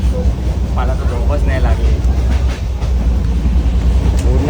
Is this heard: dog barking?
no